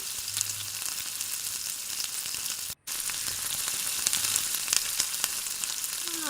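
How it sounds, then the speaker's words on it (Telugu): Chopped onions frying in a pan for vegetable rice, a steady bright sizzle and crackle running continuously with occasional stirring scrapes and a very brief dropout midway. "కట్ చేసుకున్న ఆనియన్ ముక్కలు వేసుకోవాలి. బాగా గోల్డెన్ బ్రౌన్ వచ్చేంత వరకు వేయించుకొని"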